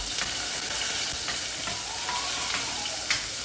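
Garlic sizzles steadily in hot oil as it is sautéed for corned beef sinigang, a continuous close frying hiss with faint stirring clicks and no talk.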